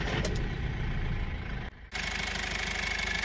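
GAZelle NEXT bus engine cranking and settling into a loud, steady idle nearby, with a brief drop in sound as it catches.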